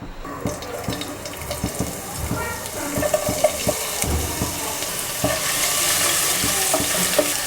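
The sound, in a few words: chopped ginger and garlic frying in hot oil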